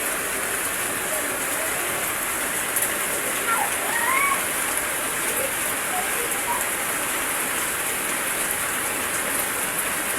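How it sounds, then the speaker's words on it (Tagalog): Heavy rain pours down in a steady, dense roar, loud and unbroken from start to finish. "Malakas ang ulan ngayon."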